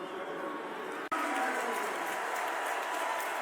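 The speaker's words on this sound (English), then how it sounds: "Crowd getting loud" A large stadium crowd at a college football game in Scott Stadium roars loudly and steadily. A brief cut drops out near the start, then the cheering continues at full strength.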